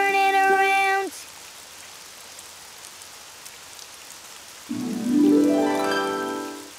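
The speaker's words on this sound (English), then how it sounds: "Oh, it's raining outside." Steady rain falls outside as a soft continuous hiss beneath sustained tonal music in a children's cartoon, with the music fading out and then swelling back in.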